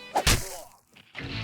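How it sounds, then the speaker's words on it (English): A staged sound effect of a key stabbing a face: a sharp, heavy thwack with a whooshing edge, followed by a quiet gap and then a lower muffled rustle. "This is the sound of somebody getting stabbed in the face with a key."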